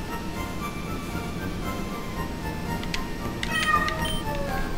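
A cat gives a short, faint meow near the end, over a low background hum.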